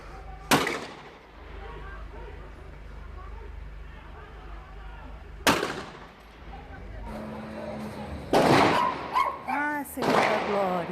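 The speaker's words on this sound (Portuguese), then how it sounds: "É tiro? É." Three loud gunshots ring out seconds apart in front of a Dia supermarket, sharp and echoing, with frightened voices talking and exclaiming in between and after.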